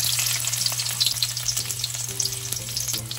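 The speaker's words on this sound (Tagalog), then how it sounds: "So magigisa po tayo ng bawang. And then isusunod po natin ang sibuyas." Garlic and onion sauté in a hot pan, giving a close, bright, continuous sizzle with scattered crackles and faint stirring taps, plus a low steady hum underneath.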